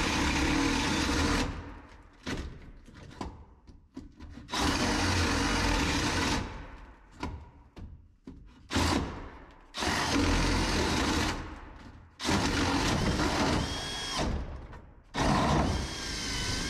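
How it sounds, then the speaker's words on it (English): A power drill bores holes into a plastic 270 gallon tote in loud whining bursts of several seconds each, separated by short pauses and rattling, ratchety gaps. "I'm going to have to drill a hole like right here and a hole right here."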